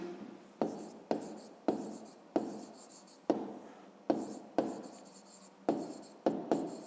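Numbers are written by hand in close, quiet strokes of pen on paper, about a dozen short scratchy bursts in an uneven rhythm with brief pauses between them.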